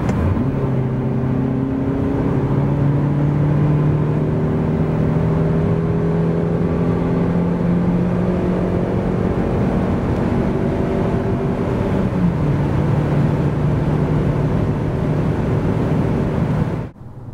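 A 2023 Suzuki S-Cross with the 1.5 DualJet Hybrid petrol engine (116 hp) accelerates from 90 to 140 km/h. The engine drones steadily in the cabin, its pitch climbing slowly, then dipping once at a gear change before rising again.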